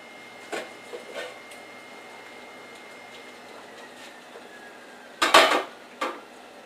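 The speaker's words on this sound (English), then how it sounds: "So I'm going to go ahead and put the lids on" Lids being set on glass canning jars of pickled Jerusalem artichoke, a few soft clinks early on, then one sharp, close metallic clatter followed by a lighter knock in a quiet kitchen.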